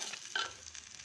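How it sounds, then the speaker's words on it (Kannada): Vermicelli and sago roasting in ghee, stirred in a pan with a soft, steady sizzle and a brief scraping stir in the middle, faint and close with no talk. "ಅದಕ್ಕೇ ತುಪ್ಪದಲ್ಲಿ ಸ್ವಲ್ಪ ಘಮ ಬರೋ ತನಕ ಹುರ್ಕೊಳ್ತೀನಿ."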